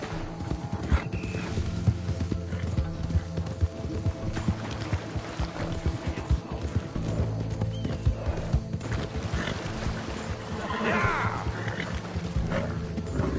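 Horse hooves trotting in Red Dead Redemption 2, a steady close clip-clop rhythm running throughout with an occasional whinny and faint background game ambience.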